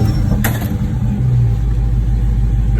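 A car with a mid muffler delete rumbles loudly and steadily at close range, its deep low exhaust tone swelling briefly in a rev, with a short sharp noise early on and no talking.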